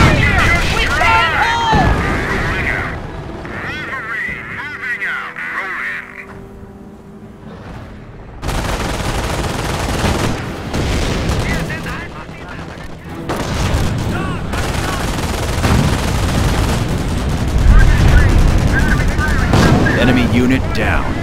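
Gunfire and explosions from the real-time strategy game Company of Heroes, with dense bursts of rifle and machine-gun shots and booming impacts, loud and continuous apart from a brief lull, under in-game unit voices.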